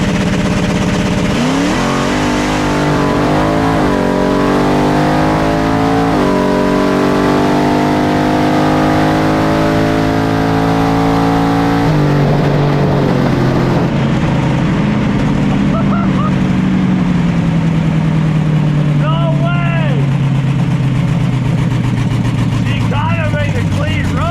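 A Chevy Spark race car makes a quarter-mile drag run, its engine screaming loud and close as it revs up through rising gear changes, then fading away, with people talking and exclaiming over it.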